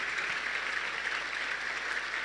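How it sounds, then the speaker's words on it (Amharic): A crowd at a farewell service for a female gospel singer claps together, a dense, even wall of applause that holds at a constant level throughout. "በደንብ አጨብጭቡላት"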